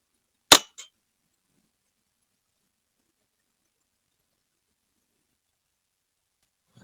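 A single sharp report from a Snowpeak M18 airgun, loud and close, followed by a faint brief clatter, then long silence.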